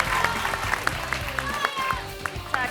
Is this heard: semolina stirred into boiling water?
no